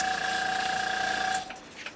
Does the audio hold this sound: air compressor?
yes